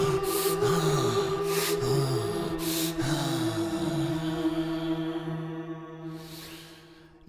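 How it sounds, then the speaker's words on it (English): Fast, heavy breathing from a character called Maisto, several quick rhythmic gasping breaths in a row, close and fairly loud, tapering off toward the end with no words spoken. "Maisto was breathing fast and heavy."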